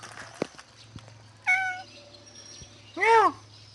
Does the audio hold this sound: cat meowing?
yes